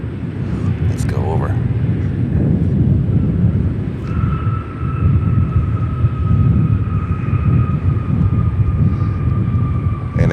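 A United Boeing 737 MAX 8 at Chicago O'Hare gives a steady, loud jet roar that holds throughout, with a faint high whine entering partway through.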